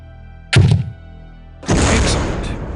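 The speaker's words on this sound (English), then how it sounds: "Now, destroy the target with a grenade." A grenade-launcher round strikes its target in Soldier of Fortune 2: Double Helix: a short, solid thunk, then about a second later a loud, broad blast that rumbles on steadily to the end, with no voices.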